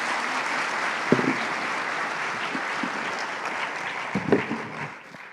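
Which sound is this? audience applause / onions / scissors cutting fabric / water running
audience applause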